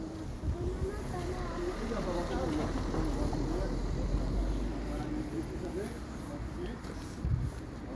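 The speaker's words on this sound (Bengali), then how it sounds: "বাতাস এখন কিন্তু আগের থেকে এখন বাতাস বেশি হইতেছে" Steady wind roars into the microphone outdoors, a constant broadband rush with gusty swells throughout, while people talk in the background.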